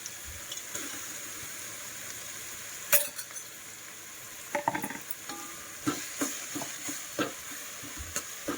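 Ginger garlic paste frying in a pan on a village gas stove, a soft continuous sizzle with scattered scraping and clinking stirs that come more often toward the end, close by with no talking.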